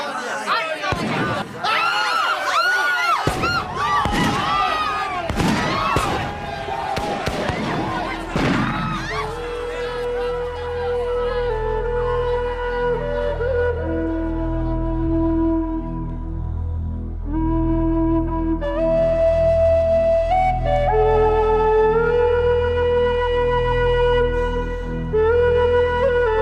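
An agitated crowd shouts in a radio drama of The Heart of Midlothian, with clamouring voices and loud bangs for the first several seconds before sustained dramatic music takes over.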